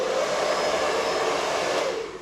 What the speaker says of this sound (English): I'm going to blow my white over